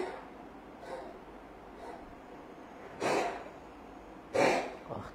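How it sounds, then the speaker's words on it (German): A cat that has been coughing for two days gives two sharp, breathy, hacking coughs close by, with a few fainter wheezy bursts before them. "was ist los mit dir, dass du seit 2 Tagen so hustest?"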